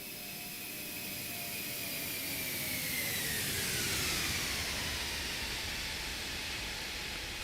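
Airbus A340 jet passing overhead in a flight simulator, a broad rushing hiss that swells toward the middle with a descending whine as it passes, then fades slightly, with no talk.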